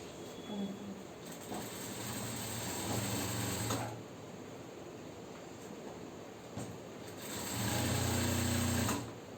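A sewing machine joins fabric pieces for a girl's ruffle frock in two steady whirring runs of a few seconds each, with quieter background noise between them.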